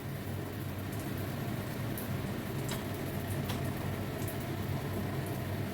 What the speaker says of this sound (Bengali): এই তেলের মধ্যে কালো জিরে দিয়ে দিলাম, কালো জিরেগুলো এবার একটু ভেজে নেব